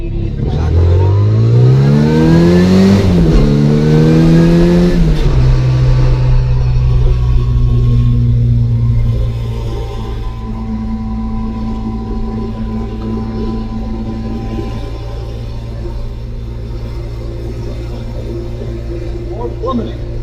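A classic Cooper Road Mini on 10-inch wheels drives along a road, its engine revving up through rising pitch, then settling into a steady cruising drone with road rumble, loud and close inside the car.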